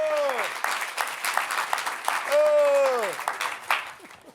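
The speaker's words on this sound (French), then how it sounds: "On applaudit Madame Tilda Swinton." Audience applause at a Cannes 2019 press conference, a dense spread of clapping lasting the whole stretch while a voice speaks over it in French and English.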